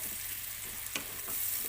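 Vegetables for pancit bihon are sautéed briefly in a pan, making a faint, even sizzle with a few soft stirring scrapes and small pops over under two seconds.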